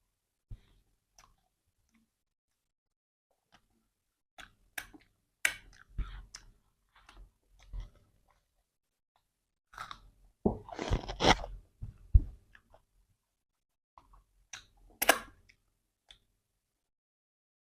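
Close, crunchy chewing of paratha eaten with sabji, arriving in scattered bursts of moist bites and soft clicks separated by quiet pauses, with no talking.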